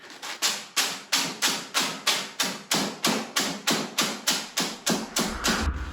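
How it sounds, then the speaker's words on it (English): A rolling pin strikes salt and vinegar chips sealed in a plastic bag, giving about fifteen evenly spaced, crunchy thumps in a steady rhythm, close and clear, with no talk. "pop them into a plastic bag, and we're going to crumb them by hitting them with a rolling pin"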